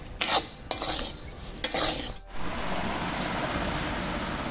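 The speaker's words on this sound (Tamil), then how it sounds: "இந்த போல் எல்லாத்தையும் வறுத்துக்கிட்டு வரேன்" Grains for a homemade health mix dry-roast in a pan, a spoon scraping and stirring them in quick rasping strokes before settling into a steady, soft hiss, with no talking.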